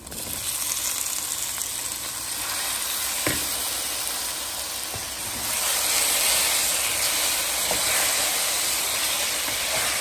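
Boiled elephant apple (chalta) added to melted jaggery, a steady broad hissing sizzle that grows slightly louder midway, with a couple of faint knocks and no voices.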